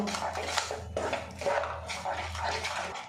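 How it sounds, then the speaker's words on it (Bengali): Jackfruit paste, sugar and milk powder being stirred together in a pan, giving steady scraping and clinking of a spoon against metal with soft wet sounds, close and continuous throughout. "একসঙ্গে ভালো করে মিশিয়ে নেব"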